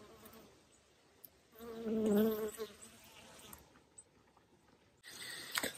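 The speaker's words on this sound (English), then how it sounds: "The honeybee's on the tripod." A honeybee buzzes close around a camera tripod at an outdoor stealth campsite, its hum swelling loud for about a second as it passes near, then fading, with faint rustles before and after.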